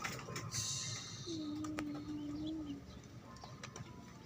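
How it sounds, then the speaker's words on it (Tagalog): Pigeons with white markings give a single low, steady coo lasting over a second, close by amid a busy outdoor background with faint higher bird chirps. "Sila kalapatids."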